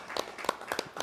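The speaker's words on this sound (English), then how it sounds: "So I think that it deserved a round of applause" A few sparse, evenly spaced hand claps at a music festival press conference, quiet and brief, with no crowd roar behind them.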